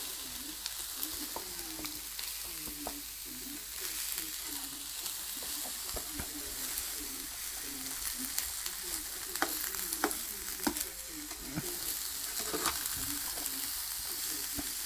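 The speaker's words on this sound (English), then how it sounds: "it's going to be a vegetarian stir fry" Butternut squash and pak choi sizzle steadily as a vegetarian stir fry in a pan. The hiss is continuous, and a rhythmic chirping from the pan with occasional stirring clicks runs through it.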